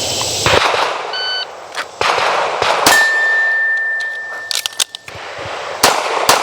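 Pistol shots ringing off steel targets during a reload drill, several sharp cracks each followed by a bright metallic clang, one long ringing tone hanging after a hit, with irregular gaps between shots.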